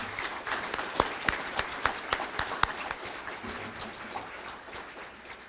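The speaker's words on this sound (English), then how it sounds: "Let's give these students a round of applause." An audience at a youth human rights awards ceremony applauds students, with steady clapping and a few loud individual claps standing out in a rhythmic run near the front before easing.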